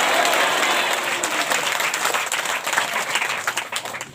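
A church congregation breaks into sustained, dense applause that fills the room, steady and loud for the whole stretch with no break.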